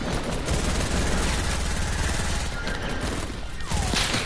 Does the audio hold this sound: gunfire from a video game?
yes